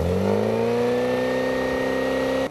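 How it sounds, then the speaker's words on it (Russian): Engine of a homemade aircraft roaring steadily with its propeller spinning, a loud continuous drone with a slowly rising pitch, close by and alone for a couple of seconds before cutting off. "Мотор ревет, лопасти крутятся."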